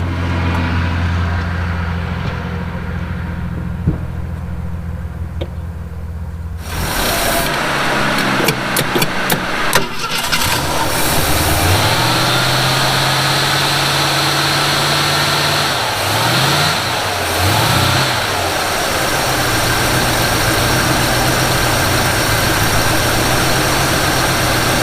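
A 1948 Willys Jeep engine cranks and catches, then settles into a loud, rough, uneven idle with occasional revs and surges, heard close up and without talking.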